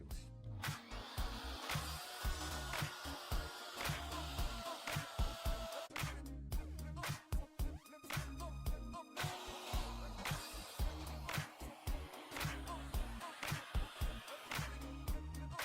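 A vacuum cleaner runs steadily while a Makita hand router, model RP2301FCX, cuts in bursts, with choppy grinding and whining that rise and fall over the continuous drone, close and loud.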